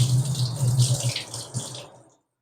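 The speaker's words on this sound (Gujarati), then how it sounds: "હવે આપણે એમાં થોડું પાણી નાખશું" Water is poured into a bowl of soaked green moong dal, a short splashing pour that trails off and stops after about two seconds.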